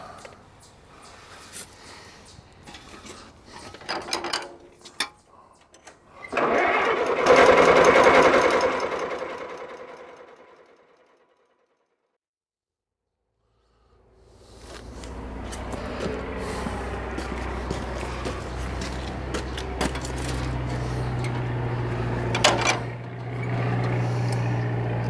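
An Allis WD tractor engine cranks after refuelling, a rough burst that dies away to silence, then catches and settles into a steady, loud low idle with a rumbling drone and sharp knocks on top.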